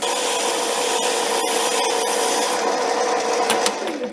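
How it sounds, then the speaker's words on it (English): Wet-dry sandpaper smoothing a part spinning in a 4-jaw chuck on a lathe, a steady loud rasping hiss over the machine's constant whine, easing off near the end. "If I smooth the surface a little bit with some wet dry sandpaper"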